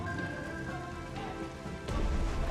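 Steady rain hisses across the whole span in Strategic Mind: The Pacific, a World War II naval strategy game, with a louder burst of downpour or crash near the end; no one speaks.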